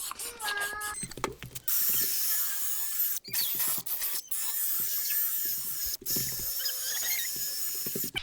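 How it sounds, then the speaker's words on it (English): A car headlight lens is wet-sanded by hand with fine-grit sandpaper, giving a close, steady scratchy hiss of rubbing strokes broken by a few brief pauses, with no talk. "now I'm going up to the finer grit. Once again, I'll just wet it and sand it"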